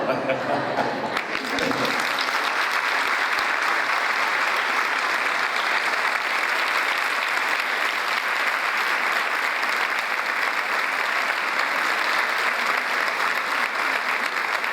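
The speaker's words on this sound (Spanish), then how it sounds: "Con este aplauso agradecemos la participación del profesor Mario Gotti" An audience at an education dialogue event in Santa Fe gives sustained, dense applause that holds steady and loud for many seconds after a brief stretch of speech at the start.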